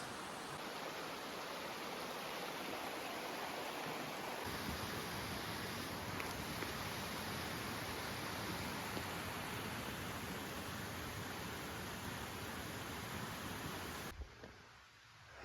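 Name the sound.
creek flowing in Sage's Ravine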